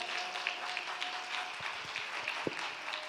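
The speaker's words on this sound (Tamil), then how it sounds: "கைத்தட்டுங்க பிரதர்ஸ்" A church congregation claps during a Sunday service, a steady soft patter of many hands with a few sharper claps standing out, fairly faint and distant.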